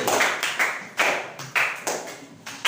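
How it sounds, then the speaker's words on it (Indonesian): A classroom group clapping together after a pupil's answer, with several distinct bursts of claps each swelling and fading in a loose rhythm, fairly close and without talk. "Tepuk tangan semuanya."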